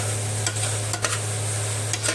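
Atta (wheat flour) roasting in a pan, stirred with steady scraping strokes over a soft, continuous sizzle and a low background hum, with no talking.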